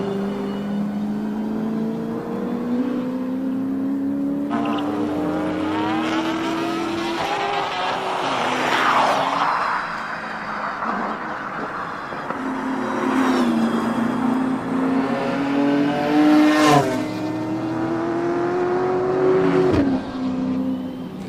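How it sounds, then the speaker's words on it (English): A Lotus Exige fitted with an AMG Mercedes engine howls up a hillclimb course, its loud engine note climbing through repeated upshifts with tire squeal and skidding, heard close and alone without talk. "So let's have a listen to this Lotus Exige AMG Mercedes."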